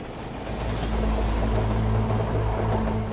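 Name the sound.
long freight train running on rails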